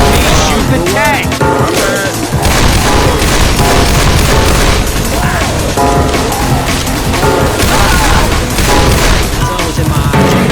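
Dense, loud, continuous gunfire and booming impacts while players shoot at the Tank in Left 4 Dead 2, a relentless wall of shots and crashes with shouting voices mixed in.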